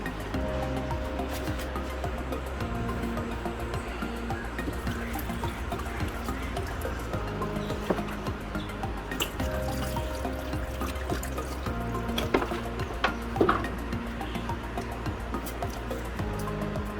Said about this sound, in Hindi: और पानी डालते हैं इसमें।